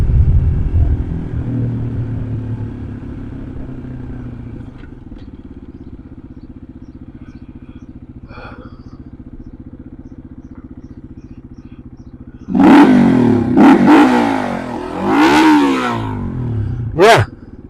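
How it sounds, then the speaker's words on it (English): A small, fun motorcycle idles with a low steady putter, then near the end its engine revs in two or three sharp loud bursts that rise and fall close by. "fun little bike"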